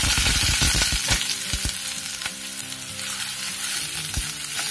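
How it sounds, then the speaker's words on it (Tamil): Chopped onions with curry leaves sautéing in hot oil in a pan for a chow chow kootu, a loud, close, continuous sizzle with occasional clinks and scrapes of stirring. "வெங்காயம் நல்லா பொன்னிறமா வர வரைக்கும் நல்லா வதக்கி விட்டுக்கலாம்"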